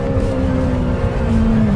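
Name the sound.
Lamborghini Temerario engine revving at 10,000 rpm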